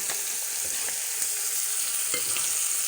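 Steak fries in butter and its own beef juices in a hot pan, giving a loud, dense, continuous close-up sizzle with a few faint crackles and no talking.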